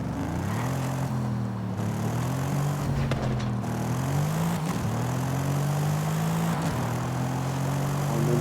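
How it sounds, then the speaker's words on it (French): A Mercedes AMG engine idling and purring in Forza Horizon 5, a steady low droning hum with gentle rises and dips in pitch, loud and continuous with no talking. "Il ronronne ce petit moteur."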